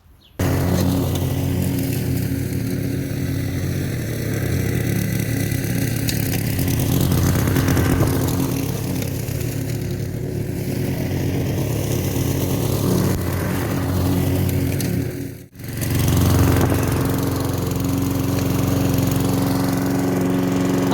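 A Mac Allister MLP300SP40 petrol lawn mower, started manually, runs with a steady, loud engine drone for the whole stretch, dipping briefly once before settling back into its even running note.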